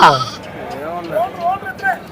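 Sheep bleat loudly and close by at the Gudur sheep and goat market, with one long quavering bleat followed by several shorter wavering cries.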